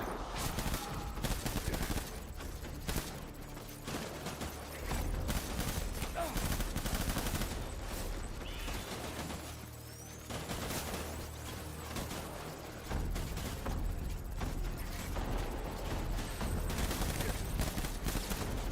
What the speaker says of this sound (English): I did shoot him in his head